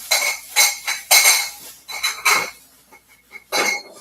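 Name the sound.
metal shelf parts clanking during assembly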